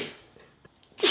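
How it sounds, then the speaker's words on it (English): A single sudden sneeze bursts out at the end after a few quiet breaths, close and loud, with no talk. "I gotta sneeze like every 5 seconds"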